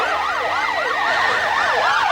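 A loud, close police siren wails with a rapid rising-and-falling yelp, repeating continuously without pause.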